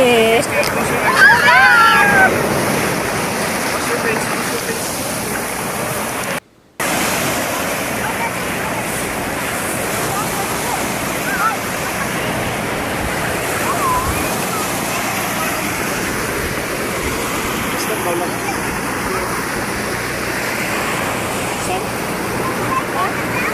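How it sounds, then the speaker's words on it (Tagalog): Big waves crash and roar at sea during a storm, a continuous loud wash of surf and wind noise buffeting the microphone, with a brief dropout and faint voices mixed underneath. "Ayan na naman ang wave na malaki."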